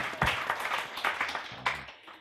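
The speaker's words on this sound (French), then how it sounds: "On applaudit avant de continuer." Audience clapping at a live event, a short burst of scattered applause with distinct hand claps, moderately loud and heard alone.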